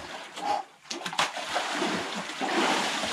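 Someone plunges into a cold spring-water pool straight from a steam room at a village bathhouse in Mari El, Russia, a close splash followed by sloshing and churning water.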